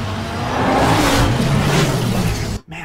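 A car engine revs in a Batman video game, a loud, steady roar that rises and swells for over two seconds and then cuts off abruptly.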